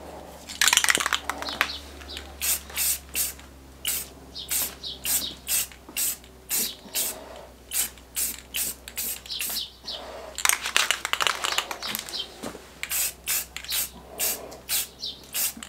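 Gloss black spray paint going onto trailer rims in a light first coat, heard as a steady series of short, close hissing spray bursts in regular rhythm over a low background hum.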